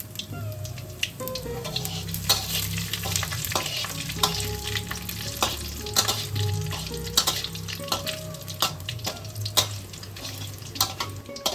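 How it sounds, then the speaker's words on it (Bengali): Bay leaf, dried chilli, cumin and panch phoron crackle in hot mustard oil in a kadai, a steady close sizzle marked by frequent sharp pops and scraping stirs, with no speech. "কড়াইতে সর্ষের তেলটা আমাদের গরম হয়ে গেছে। একটা তেজপাতা, শুকনো লঙ্কা, জিরে আর পাঁচফোড়ন আমি দিয়ে দিলাম।"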